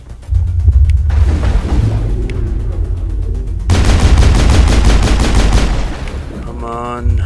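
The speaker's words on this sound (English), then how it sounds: "Wait until it fires its gun." Sustained automatic gunfire in the Mass Effect video game, loud and rapid with dense bursts of shots, pausing briefly before another heavy volley and a metallic whine at the end.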